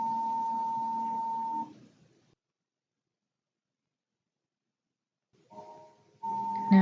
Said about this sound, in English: As you can see, the fan is spinning clockwise.